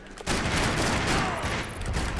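Dual Beretta pistols firing in a Max Payne 3 multiplayer match on PC, opening with a brief lull and then a dense, loud, continuous barrage of shots.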